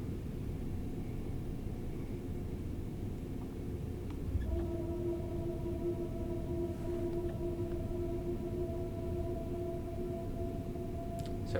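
A Class 378 electric train on the North London Line in Train Sim World 5 pulling away, a low steady rumble with a traction whine that starts partway through and holds as a sustained tone.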